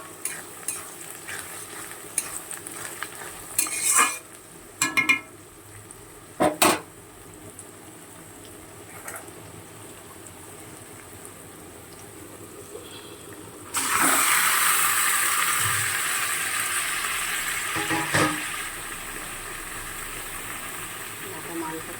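Onions frying in a pan for yogurt chicken: intermittent stirring clatter and light sizzling at first, then a loud, steady sizzle surges in partway through and holds to the end.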